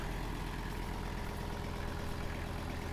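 A steady, low tractor engine idle rumbles continuously at close range, even and unbroken, with no voices over it.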